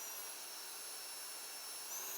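A Kica Jet Fan Max handheld car blower runs steadily at 20% power, a faint, even airy whoosh with a thin high whine that holds unchanged throughout.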